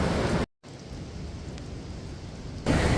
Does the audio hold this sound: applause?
no